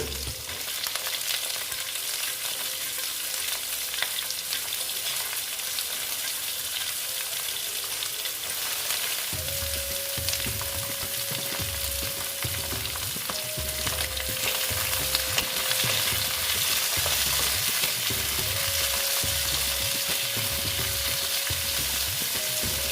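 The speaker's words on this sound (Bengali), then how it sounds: "আস্তে আস্তে ভেজে নিচ্ছি" Mixed vegetables with radish sizzle steadily in a pan while a utensil stirs and scrapes in a repeated rhythm, close and continuous with no talking.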